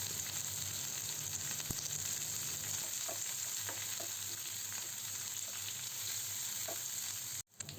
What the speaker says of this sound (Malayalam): ആ കറിവേപ്പിലയും ചെറിയ ഉള്ളിയും നന്നായിട്ട് ഇളം ഗോൾഡൻ നിറമാകുന്നത് വരെ നമുക്ക് വറുത്തെടുക്കാം